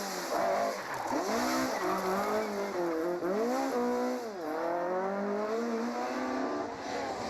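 A Ford Escort rally car spins at a road junction during a national rally, its engine howling with rising and falling revs and its tyres squealing for several seconds, loud and close, with no voices.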